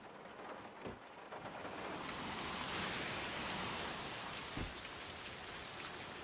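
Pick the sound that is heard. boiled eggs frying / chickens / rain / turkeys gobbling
rain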